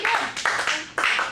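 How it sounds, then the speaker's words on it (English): An audience claps for performers on stage, a short burst of hand-claps in a few uneven surges, close and fairly loud. "Let's give them a big round of applause for their first time on stage."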